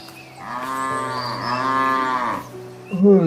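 Cartoon cattle give one long, loud, drawn-out moo up close, followed by the start of a second moo.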